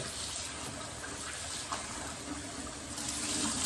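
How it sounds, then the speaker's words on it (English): Tap water runs steadily into a pot while rice is washed in a home kitchen, a soft continuous gushing splash heard up close and alone. "You have to wash it until your water is clear."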